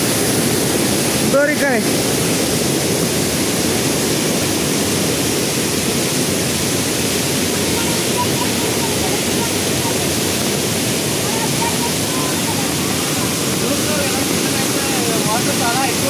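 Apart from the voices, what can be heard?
Kothapalli waterfall flooded with rainwater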